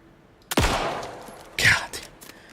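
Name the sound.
gunshots in the video game Alan Wake 2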